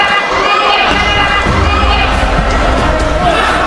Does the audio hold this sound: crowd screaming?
yes